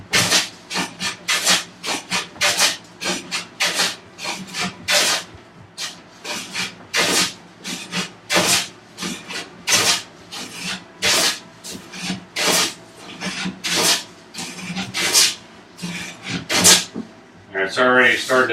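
A hand plane is pushed along a wooden workbench top, taking shavings in a long series of rhythmic, rasping strokes, each a sharp swish of wood, close and loud with brief pauses between passes.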